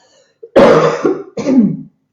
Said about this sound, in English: Sorry you have to listen to my gross coughing, guys.